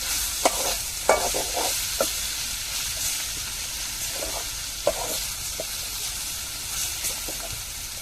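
Steady sizzling of bitter gourd and dried fish frying in a pan, with occasional scraping stirs and clinks throughout, close and fairly loud.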